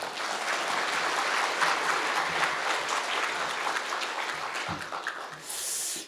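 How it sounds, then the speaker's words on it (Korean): An audience at a public economic forum in Jeju claps in a full, steady round of applause that continues evenly before fading at the end. "박수 한번 쳐드려야 되나요?"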